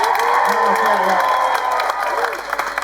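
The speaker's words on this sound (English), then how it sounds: "Give me a 10 out of 10 round of applause." A theatre audience at a live comedy show gives a loud, sustained round of applause with cheering and crowd noise, dense and continuous, fading slightly toward the end with a few scattered claps.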